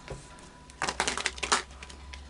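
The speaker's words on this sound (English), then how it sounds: "I will just do some final shuffling now" Tarot cards being shuffled by hand at close range, a quick burst of riffling and flicking card sounds after a brief pause, with no talking.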